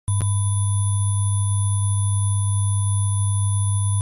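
Pure sine test tones sound as a single steady, loud tone held for about four seconds, preceded by a brief click, with no other sounds.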